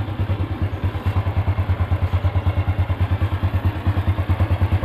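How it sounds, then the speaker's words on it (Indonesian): A Honda Revo motorcycle with an electric starter fault runs close by at a steady idle, its single-cylinder engine putting out a regular, loud low thumping pulse throughout. "Sekarang kita tes dulu starternya. Kita kontak, nyala, kemudian kita starter nyalakan."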